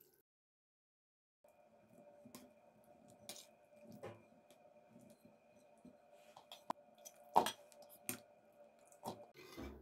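Brined olives are rinsed in water to wash off excess salt and bitterness, giving faint, close squishing, soft clicks and small knocks as they are handled, with a low steady hum underneath and no talking.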